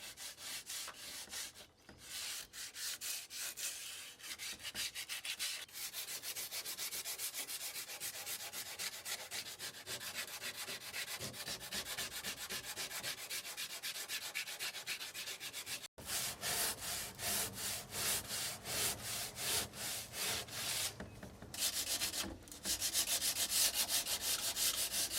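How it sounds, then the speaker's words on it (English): Sanding off damaged varnish on weathered porch wood, a steady rasping scrub of rapid back-and-forth strokes running continuously up close, with one brief pause partway through. "sand off the damage"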